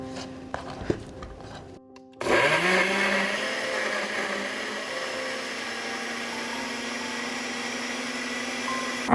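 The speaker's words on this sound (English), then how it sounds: "Use the juice blender to make the tomato puree." A blender starts up abruptly after a few quiet clicks and runs steadily at a high whirring pitch, pureeing tomatoes, loud and close, with no talking.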